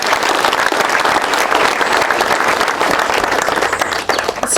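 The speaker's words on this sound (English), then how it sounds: "Please, can we give them a hand clap?" Steady, dense applause from an audience for schoolchildren, including young kindergarten pupils, at a nature-themed school event, loud and continuous throughout before easing slightly near the end.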